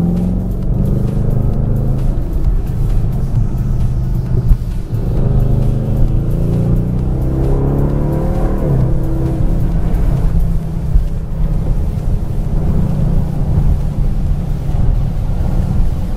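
Bentley Continental GT V8 S engine accelerating under light throttle, a steady deep rumble heard from inside the car with a rising pitch sweep midway, plus some wind noise and no talking.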